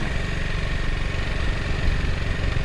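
A motorcycle engine idles close by with a steady, loud, chugging putter that stays constant throughout, with no talk.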